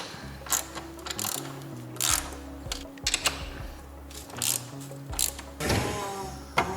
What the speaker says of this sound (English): I'm gonna go ahead and tighten up the nuts on the bottom.